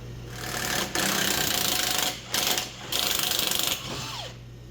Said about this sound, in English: we'll keep cutting